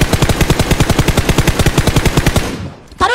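Rapid automatic gunfire from the video game PUBG: a sustained, evenly spaced burst of loud shots for about two and a half seconds, then it cuts off and fades.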